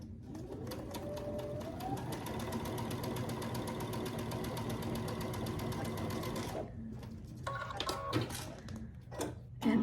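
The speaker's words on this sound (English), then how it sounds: "You'll sew down that side at 1/4 inch." A sewing machine stitches two quilt pieces together at a quarter-inch seam, a steady fast whirring run that rises in speed early on, then stops, leaving a few faint handling clicks.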